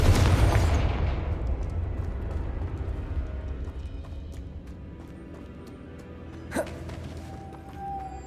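The Confringo explosive spell from Hogwarts Legacy goes off as a loud burst at the start and fades into a long low rumble, followed later by a faint sharp pop and quiet ambient game sound, with no talking.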